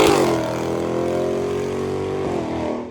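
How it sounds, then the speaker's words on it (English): Exhaust of a Coyote V8 car with mufflers, a loud, close engine roar that flares briefly, then holds a steady droning rev and tapers off. "I think the mufflers sound great on this thing"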